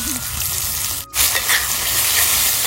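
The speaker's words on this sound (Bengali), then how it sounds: "আমি কড়াইয়ের মধ্যে এখন পেঁয়াজগুলো দিয়ে দিচ্ছি, পেঁয়াজ, ক্যাপসিকাম, টমেটো" Onion, capsicum and tomato sizzle in hot oil in a wok, a bright continuous hiss close by that briefly cuts out and returns louder.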